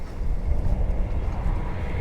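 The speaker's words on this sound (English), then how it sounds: "that was the sound of the train returning up to Exeter" A steady low rumble of a train passing at a distance along the River Exe estuary in Devon, continuous and fairly loud with no voices.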